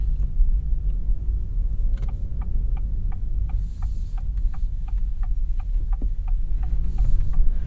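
Steady low road and engine hum inside a 2025 Acura ADX cabin while driving, with a faint regular ticking, like a turn signal, running through most of the stretch; no talking.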